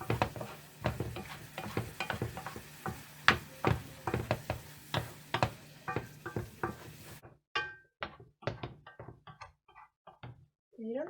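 A stir fry sizzles in a pan while it is tossed and stirred, with repeated knocks and scrapes against the metal in an uneven rhythm. The sizzle cuts out partway and a few louder clanks follow.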